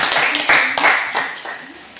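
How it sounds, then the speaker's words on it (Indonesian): Audience applause for the first presenting group at a classroom teaching practice session, a dense burst of hand claps that swells at the start and gradually tapers off. "Kita berikan aplaus untuk kelompok 1."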